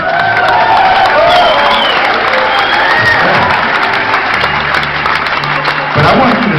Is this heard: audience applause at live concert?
yes